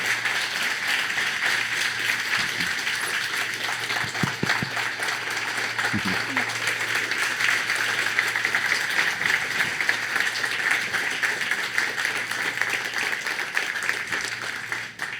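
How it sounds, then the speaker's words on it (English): Sustained applause from a seated audience at a talk on suicide, a steady dense wash of clapping that holds at even loudness for about fifteen seconds with a few sharper individual claps near the start. "Will you guys give her a round of applause?"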